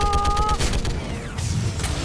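Rapid gunfire and weapon blasts in a Mass Effect 3 firefight, loud and dense bursts over about two seconds with a sharp tonal beep at the start and no clear talk.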